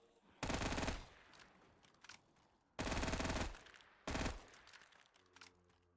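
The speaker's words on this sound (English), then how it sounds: "Yay, a subpar SMG." Three loud, close bursts of rapid SMG fire from a Black Ops 3 custom zombies game, each sustained for about half a second or more, separated by quieter gaps.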